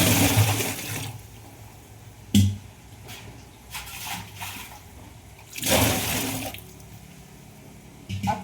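Tap water gushes into pots at home, filling in bursts: strong splashing rushes near the start, at about two seconds and again midway, with a lower steady trickle between, close and alone with no talking.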